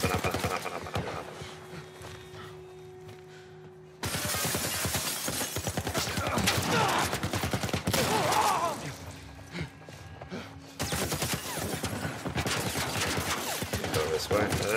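Enemy gunfire in The Last of Us Part 1 game: sustained bursts of rapid shots, loud and close, cutting out briefly around the middle before resuming.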